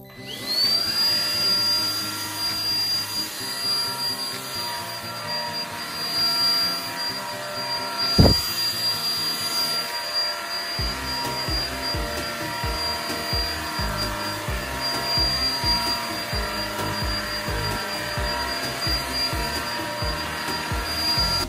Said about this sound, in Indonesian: jadi sekarang kita akan coba praktekkan vakum untuk lantainya sekalian untuk moppingnya sekaligus